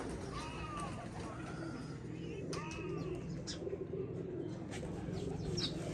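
Pigeons coo in repeated soft, rolling calls close by, breeder birds kept in a loft, over a steady background hum, with a few chirps scattered through.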